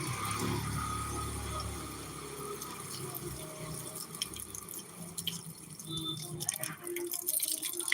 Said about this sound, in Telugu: కాళ్ళు కడుక్కొని గుడిలోకి ప్రవేశిద్దాం